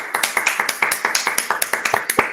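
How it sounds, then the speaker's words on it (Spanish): Sparse claps from a small class of law students, irregular and fairly close, a dozen or so separate hand claps spread over a couple of seconds with no talking. "Merecería un aplauso también, ¿qué les parece?"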